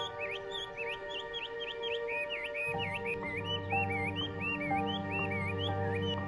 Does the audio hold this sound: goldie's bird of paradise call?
yes